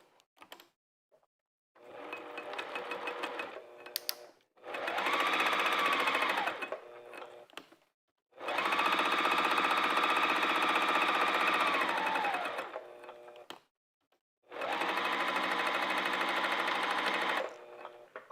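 Sewing machine stitching the side edges of a fabric pouch: three long steady runs of close, rapid mechanical whirring, each several seconds long, separated by short quiet pauses.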